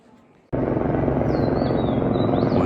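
A helicopter near the Kedarnath helipad starts up abruptly and holds a loud, steady rotor and engine roar close by, with a faint rising whine above it.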